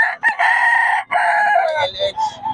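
Yellow-legged gamefowl chickens at a market, with loud, close clucking and crowing-like calls in a few drawn-out bursts.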